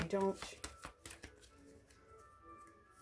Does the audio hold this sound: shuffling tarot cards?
yes